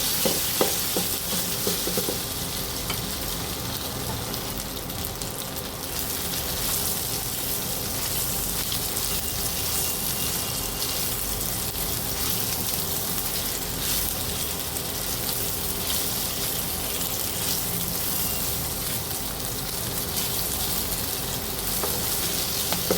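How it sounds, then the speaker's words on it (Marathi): Rava mini idlis being tossed and stirred in a hot pan, a continuous dense sizzle with soft scraping and rustling that holds steady for over twenty seconds, with no talking. "तयार केलेली मिनी इडली ती यावर टॉस करून घेऊया."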